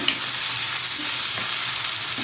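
Tomatoes and potatoes frying in oil for vangi bath, giving a steady, even sizzle throughout with faint stirring, no voices.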